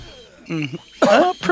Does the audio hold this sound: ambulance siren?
no